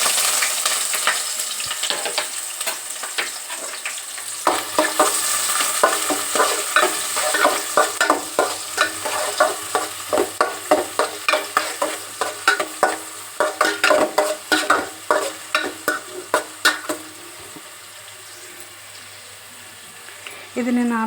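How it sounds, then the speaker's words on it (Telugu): Onions frying in hot oil with bay leaves, cloves and cardamom for chicken mandi, a steady sizzle with repeated stirring strokes that grow into a rhythmic scraping through the second half, close and fairly loud. "ఇప్పుడు ఉల్లిపాయలు వేసేసుకున్నాము"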